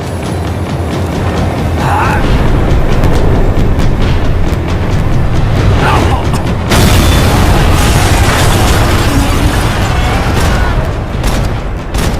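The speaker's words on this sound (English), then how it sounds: "The tram was slowing down" A tram in the video game Max Payne 3 slows down in a loud, rumbling rush of rail noise, with booming impacts and a sharp burst that intensifies midway.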